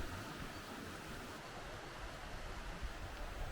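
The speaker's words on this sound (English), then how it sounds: "You can hear the river running down here." River water running in the River Wye valley at Chee Dale, a quiet continuous rushing wash heard from a footpath nearby, with no voices.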